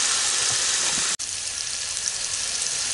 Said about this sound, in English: Let them sear and then turn it over and for another 2 to 3 minutes on the other side.